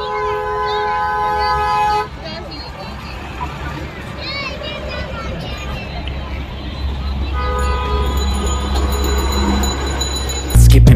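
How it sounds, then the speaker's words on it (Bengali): A passing train sounds its horn near Eco Park in Kolkata, tonal honking blasts rising over a steady rumble, mixed with loud background music and crowd noise throughout. "ওই দেখ ট্রেন শোনা"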